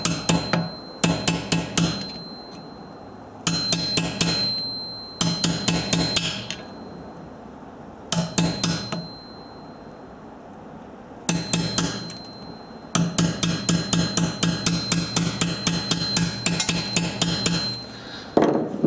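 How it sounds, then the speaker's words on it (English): Bursts of rapid, loud hammer blows on metal, trying to knock a broken ABS wheel sensor out of a steering knuckle, struck in quick clusters with short pauses between, close up and without talk. "we'll try is to clearly knock this out from the housing"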